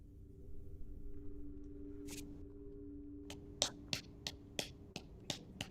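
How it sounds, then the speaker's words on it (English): Hands clapping in a quiet room, first one isolated clap and then a run of sharp, evenly spaced claps over a low steady hum. "That is clapping."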